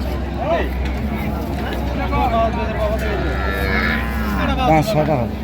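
Cows moo repeatedly at the Raniganj cattle market, low drawn-out calls standing out over a murmur of people talking in the background.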